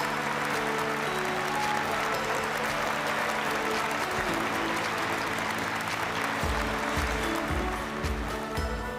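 An audience at an international S!NERGY event applauds in a sustained, even wash of clapping that holds steady throughout.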